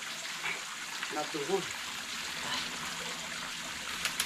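River water flows in a steady, soft rush with a light trickling texture, fairly faint and continuous, while a person speaks briefly over it.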